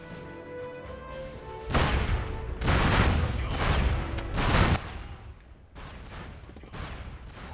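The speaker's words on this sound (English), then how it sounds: "So many goddamn grenades off over there." A volley of loud blasts sounds from grenades and gunfire in the online PlayStation 2 game SOCOM 2 U.S. Navy SEALs. Four heavy bursts in quick succession are followed by fainter distant pops, with no voices over them.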